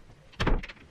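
A door is pushed shut indoors, a short muffled thud with a brief scraping rattle, heard close and alone.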